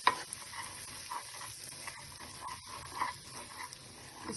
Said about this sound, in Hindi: I'll just saute it.